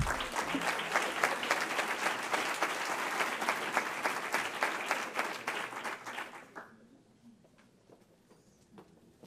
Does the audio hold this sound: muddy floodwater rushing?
no